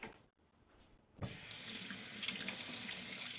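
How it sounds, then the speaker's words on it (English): A kitchen tap turns on after a brief quiet moment and water runs steadily over hands being washed, a close, continuous splashing rush. "Wash our hands."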